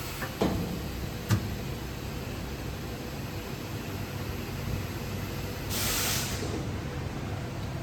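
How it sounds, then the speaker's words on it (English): Oil spray hisses briefly inside a cosmetics powder mixer, a short burst of broadband spray over steady machine noise, preceded by a couple of faint clicks. "Here is spray, oil spray"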